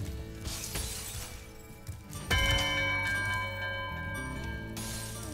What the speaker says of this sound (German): das war ein Glockenturm